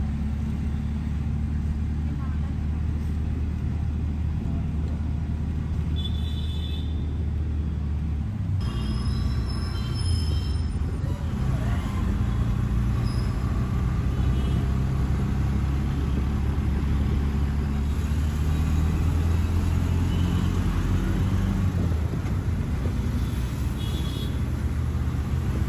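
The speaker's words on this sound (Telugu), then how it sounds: "ఫుల్ ట్రాఫిక్ చూసే సౌండ్ ఇప్పిస్తున్నాను కదా మీకు." Heavy road traffic on a busy city street, with a continuous deep rumble of idling and moving engines close by and a brief high tone partway through.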